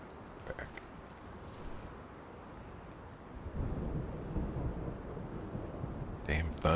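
Thunder in the video game The Division 2. A broad, low rumble swells and holds after a few seconds over steady game ambience, and a brief clicking sound follows at the end.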